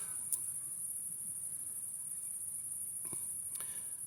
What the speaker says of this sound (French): J'entends les grillons, d'accord,